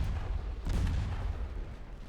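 Naval gunfire aimed at heavy cruisers in the warship game Ultimate Admiral Dreadnoughts: one deep, booming artillery blast rises out of a low rumble and fades away, with no voices.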